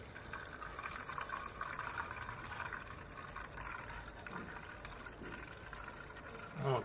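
Paint thinner for metallic paint pours steadily into a can for several seconds, a soft continuous trickle and splash with a brief louder knock at the end.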